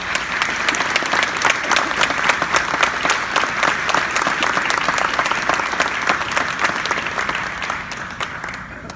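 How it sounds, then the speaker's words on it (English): An audience applauds loudly and continuously to welcome a speaker, dense clapping holding for about nine seconds before easing slightly toward the end. "Big round of applause, and please help me welcome Lieutenant Colonel McDonald."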